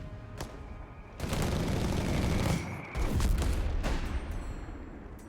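Sustained gunfire and explosions from a Company of Heroes 3 battle between Wehrmacht and US forces, with dense bursts of shooting and booming impacts over several seconds, loud and continuous.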